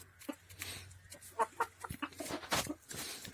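Broody hens cluck in short, irregular bursts at close range, with scattered scratching and shuffling noises in between.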